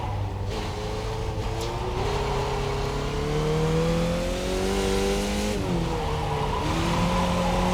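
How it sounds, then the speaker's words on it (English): An F2000 race car in the iRacing sim, practicing for Pocono South, spins its rear wheels under throttle: a steady, loud engine drone whose pitch rises and falls with a brief dip, a faint skid hiss beneath it. "If you get the back out and then you get on the throttle, you can get wheel spin."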